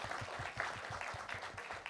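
Applause from an audience at a live anesthesia crisis competition, a brief, moderately faint patter of clapping that carries on steadily, with some low rhythmic thumps mixed underneath.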